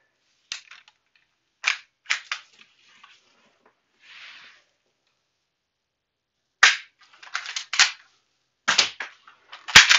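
Gunshots are fired at a metal target across a room. Sharp, close cracks come singly and in quick clusters with uneven gaps of silence between them, and a few fainter taps fall in between.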